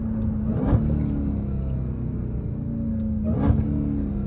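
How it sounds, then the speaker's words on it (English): An 800 hp Dodge Hellcat engine downshifting on a hard drive, its steady deep rumble broken by two sharp blips a few seconds apart, loud and close with no talk. "the downshift on this thing is brutal, bro"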